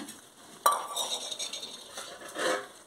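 A utensil stirs fish curry in a pot, with a sharp metallic clink near the start followed by scraping and sloshing strokes, close and clear, a second louder scrape late on, faint sizzle underneath.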